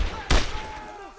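Gunfire in the World War II shooter Brothers in Arms: Road to Hill 30, a single loud close burst of shots amid battle ambience.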